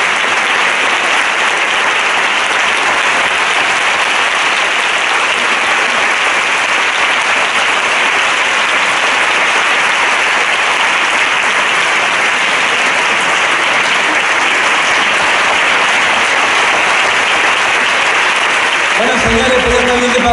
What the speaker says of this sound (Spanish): Un fuerte aplauso para la familia Fernández.